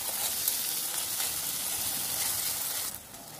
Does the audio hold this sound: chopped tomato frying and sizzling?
yes